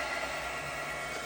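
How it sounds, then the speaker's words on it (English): A heat gun blows steadily while drying gesso on a zine page for mixed-media art, a loud, continuous broadband whoosh that holds at constant level throughout with no pauses or talk. "Let me find my heat gun."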